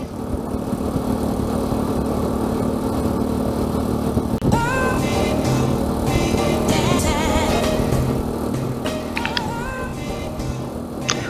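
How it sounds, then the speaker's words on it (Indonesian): Motorcycles travelling a riverside road, a continuous engine hum close by with a steady drone, joined midway by passing bikes whose pitch rises and falls, and a couple of short horn-like tones later. "Banyak di depan saya ini motor-motor yang juga lewat sini."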